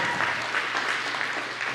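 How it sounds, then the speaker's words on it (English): Brief burst of audience applause at a stand-up comedy show, a dense even patter of many hands clapping, fairly loud and steady, with no one speaking over it. "Y'all make some noise for the couple."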